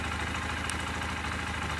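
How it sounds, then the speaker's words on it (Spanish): A motorcycle engine keeps running after its key is switched off, idling in a faint, steady, even rumble with no change. "Apagamos la moto por la llave y la moto queda prendida."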